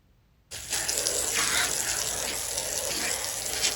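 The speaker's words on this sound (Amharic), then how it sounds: "እና ካሸሁት በኋላ እንደምታዩት በውሃ ለቀልቀዋለሁኝ።" Water pours steadily from a hose or tap, rinsing a scrubbed outdoor floor; a continuous splashing gush starts abruptly and holds at an even, fairly loud level throughout, with no talk.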